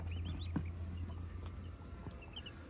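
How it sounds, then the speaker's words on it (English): A newly hatched chick gives a few faint high peeping chirps, scattered and soft against a steady low background hum. "our little chick that was born a few days ago"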